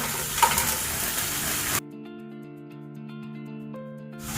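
Chicken strips and frozen Sainsbury's stir fry vegetables sizzling in a pan, a bright close hiss for under two seconds that then cuts to quiet music before the sizzle returns briefly.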